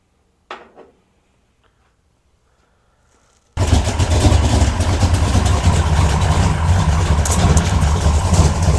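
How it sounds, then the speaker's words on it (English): After a quiet stretch with a faint click, a warmed-up car engine kicks in close by and runs with a loud, uneven, lumpy choppy idle. "it does have a choppy idle"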